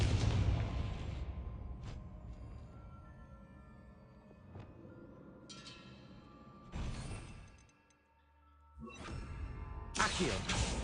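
Confringo fire spell blasts in the Hogwarts Legacy video game, several bursts with whooshing swells and booming impacts spread across the clip, moderately loud with a brief near-silent gap before a final burst.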